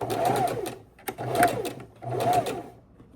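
A sewing machine stitches a seam across quilt blocks in three even bursts of rapid mechanical whirring, separated by brief pauses, close and clear with no talking.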